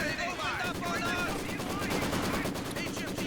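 Machine gun fire in Company of Heroes 2 crackles in a dense, continuous stream of rapid shots over battlefield noise, mixed with busy game sounds throughout.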